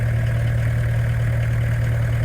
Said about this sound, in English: Just running up the camper, because I've not used it for a little while